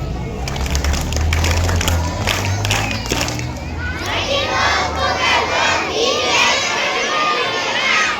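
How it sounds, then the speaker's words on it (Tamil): Children clap and cheer at a church Vacation Bible School prize-giving and arts programme, a loud crowd of young voices shouting and applauding together for the whole stretch, close and continuous. "கைதட்டு"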